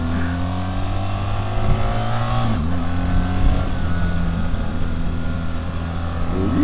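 A BMW R 1300 GS Adventure motorcycle engine drones loudly and steadily while riding off-road through deep grass, its pitch dipping and rising as the throttle changes, heard up close and with no talk.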